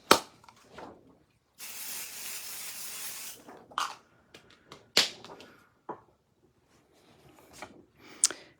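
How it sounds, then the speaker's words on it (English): A spray bottle of paint releases one long hissing burst, surrounded by quiet clicks and handling sounds. "let me grab my pixie spray"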